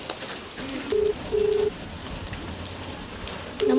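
Rain falls as a steady hiss of drops on surfaces, broken by a few short electronic beeps that come and go.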